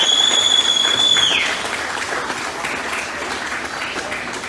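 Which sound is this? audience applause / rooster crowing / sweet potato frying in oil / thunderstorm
audience applause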